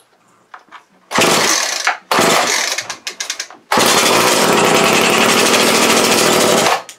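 A 2002 Snapper S31SST string trimmer with a 31cc two-stroke engine sputters, catches in short loud bursts, then holds a steady close buzzing run for several seconds.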